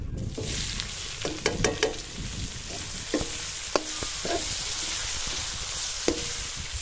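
Onions frying in oil for a crab curry while being stirred, a steady close sizzle broken by several sharp scraping clatters of the spoon against the pan, with no talking.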